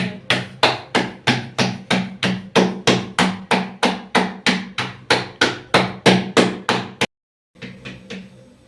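Jowar roti dough slapped and patted between two hands, a steady run of about twenty sharp, close, loud pats at an even quick rhythm, then a brief pause and fainter handling.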